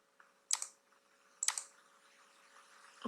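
Two sharp, isolated computer keyboard key presses about a second apart, close and clear against near silence, with a faint click before the first and another at the end.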